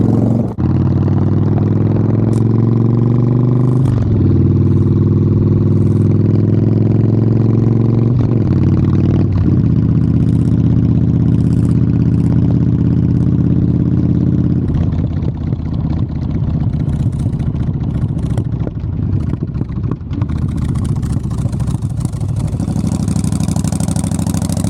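A Yamaha XVS 1100 Dragstar V-twin motorcycle idles loudly up close, its engine rising in several repeated revs that drop back to a throbbing idle, with no talking.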